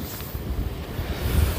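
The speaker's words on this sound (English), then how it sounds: "It's too wet and wild and windy." Strong, gusty wind buffeting the microphone on a wet, wild stretch of Irish coast near Fanore, County Clare, a steady rumbling rush with swelling gusts and no voices.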